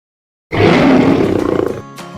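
A deep, loud lion roar opens a dentist advertisement, rising abruptly after a short silence and holding for over a second before tapering into a brief fading tail.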